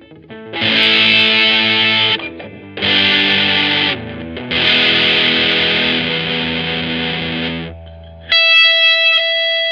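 A Traveler EG1S red V2 electric guitar plays through heavy distortion in three long sustained chords, each cut off by brief gaps, then a cleaner brighter chord rings out at the end.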